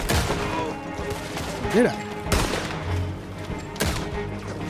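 Gunfire in the video game Red Dead Redemption 2 sounds as several loud, sharp shots spaced across the scene over game ambience. Someone speaks briefly.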